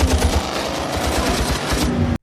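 Rapid gunfire pounds a modified race car in a film scene: dense, loud, close bursts of shots repeating for about two seconds before cutting off abruptly.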